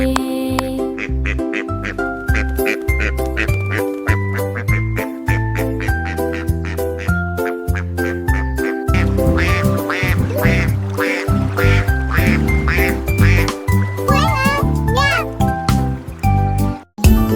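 Ducks quack repeatedly through a French children's song, their calls set against bright sung melody and steady backing music, with a voice in places.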